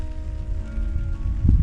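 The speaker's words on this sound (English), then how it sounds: "Light rain, I guess you could say." Light drizzle falls on a wilderness lake during an October canoe trip in Nova Scotia, a soft steady patter with low rumbling wind or paddle noise and a brief thump near the end.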